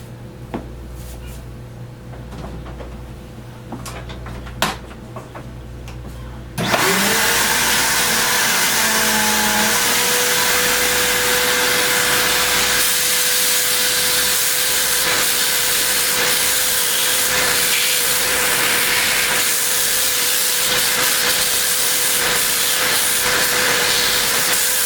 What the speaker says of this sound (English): We're going to use a vacuum.